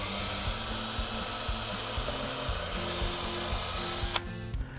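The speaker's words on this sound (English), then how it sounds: "we want to put face screws in the ends of the Fibo panel" Drill driving face screws into the ends of a Fibo waterproof laminate wall panel during installation, a steady low motor whine running throughout, fairly faint, ending with a short click.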